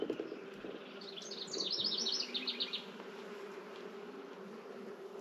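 Honey bees buzz in a steady, close drone during a beehive inspection, with a brief swell of higher chirping sounds partway through.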